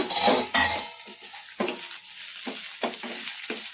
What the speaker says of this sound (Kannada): ಈಗ ಮುಚ್ಚಳ ತೆಗೆದು ನೋಡೋಣ. ಕಲಿಸ್ಕೊಂಬಿಡೋಣ.